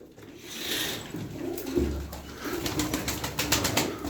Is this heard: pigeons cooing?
yes